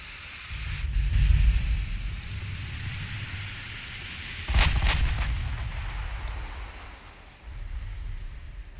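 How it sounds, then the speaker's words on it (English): Heavy 16-inch naval guns boom in the Ultimate Admiral Dreadnoughts naval battle game: two deep, rumbling blasts a few seconds apart, each followed by a long low roll, with a third softer thump near the end. "Can get the 16-inch guns firing on her again."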